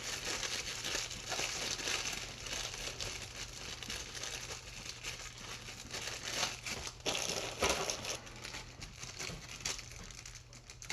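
A plastic bag handled up close while making a homemade fire starter with Vaseline, crinkling and crackling continuously at a soft level over a low steady hum, with no talking.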